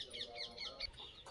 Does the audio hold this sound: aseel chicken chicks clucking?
yes